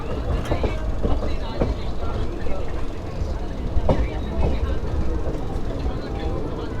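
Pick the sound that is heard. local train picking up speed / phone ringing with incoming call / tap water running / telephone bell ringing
local train picking up speed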